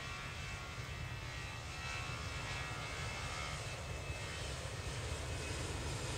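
A steady, loud drone of an airplane engine fills the whole stretch, a continuous broadband roar with no break and no talking.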